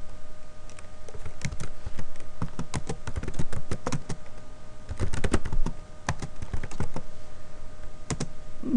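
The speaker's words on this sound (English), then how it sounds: "I want you to just type it in and execute it." Code being typed into SAS statistical software on a computer keyboard: close, irregular bursts of crisp keystrokes with short pauses, heard alone with no talking.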